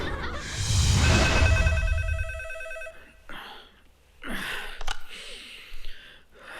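A telephone rings loudly at night with a steady electronic trill for about three seconds, then stops, leaving quiet breathing and soft movement sounds nearby.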